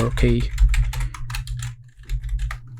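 Computer keyboard typing in quick irregular bursts, close and moderately loud, over a steady low hum, with a person talking over it.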